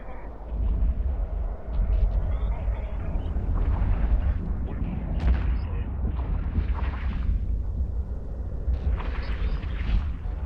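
Weapons fire from a Tengu in an EVE Online space battle during a DED 10/10 Maze complex: steady rumbling booms and dense explosive bursts roll on without a break, loud and close throughout.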